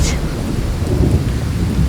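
Thunderstorm soundscape from the NatureSpace app: steady heavy rain on surfaces with deep rolling thunder rumbling through, loud and dense with no break.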